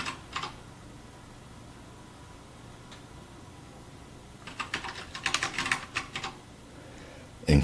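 Short bursts of typing on a computer keyboard, close and fairly faint, with a quick cluster of key clicks late on over a low steady room hum.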